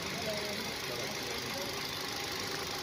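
A rebuilt Hyundai Grand i10 1.2 Kappa VTVT petrol engine idles steadily with a smooth, even hum that stays constant at a faint, distant level throughout.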